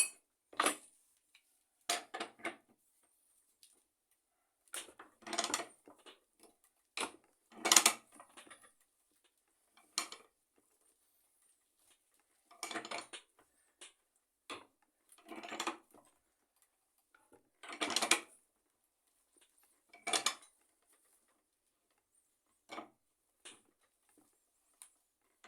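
A generic pipe wrench is worked on a pipe, giving sparse metallic clicks and clanks in short separate bursts with quiet gaps between them, close up and fairly faint.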